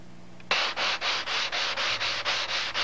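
A sanding block scrubs along a seam in steady back-and-forth strokes, about nine harsh rasping passes in an even rhythm, loud and close with no speech.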